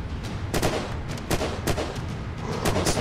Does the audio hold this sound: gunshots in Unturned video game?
yes